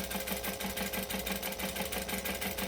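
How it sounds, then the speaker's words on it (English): A sewing machine stitches around pocket pieces at stitch length 4, running close and steady with a fast, even pulsing rhythm. No talk. "I'm going to go onto stitch length number 4 and I'm going to stitch around."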